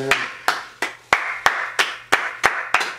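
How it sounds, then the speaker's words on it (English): Nine sharp hand claps in a slow, even rhythm, close and crisp, each one ringing briefly before the next. "let me clap for that"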